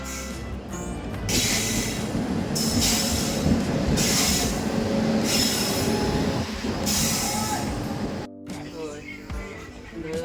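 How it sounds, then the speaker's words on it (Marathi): A train rolls into a station in Mumbai with loud rumbling wheels and high metallic squeals, steady and close, with voices talking faintly in the background. "ट्रेन आलेली आहे"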